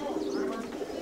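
Pigeons coo softly and continuously in a loft, a low, throaty murmur that stays steady and fairly faint with no one speaking over it.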